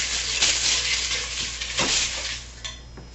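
Utensil stirring and clinking against a bowl while mixing food, a few scraping rattles and sharp taps close by, with no talk.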